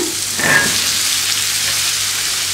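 Carrot, beans and cauliflower frying in a pan for white kurma give a steady, loud sizzle, with a brief stirring swell near the start and no talk.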